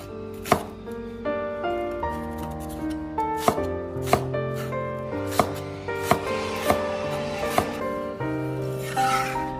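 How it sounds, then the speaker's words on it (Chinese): A knife chops a scallion into diagonal slices on a cutting board, giving a steady series of crisp, close taps about once a second with no voices. "将大葱切成斜片。"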